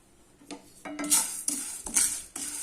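Chana dal dry-roasting in a pan as a spoon scrapes and stirs it, giving several short clattering, rustling strokes against the metal at close range with no talking.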